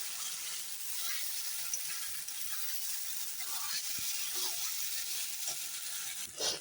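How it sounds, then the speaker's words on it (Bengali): Spiced masala with potatoes being stirred and fried in a pan gives a continuous soft sizzling hiss, with faint scraping and clinks from the spoon near the end. "এখন ভালো করে নেড়ে নেড়ে মশলাটা কষিয়ে নিচ্ছে আলুটা দিয়ে দিয়েছি"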